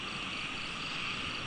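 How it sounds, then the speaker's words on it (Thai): Frogs croak at night in a forest, forming a dense, continuous chorus that fills the air with steady, overlapping calls and no voices. "เสียงกบเขียดจะห้องเต็มที"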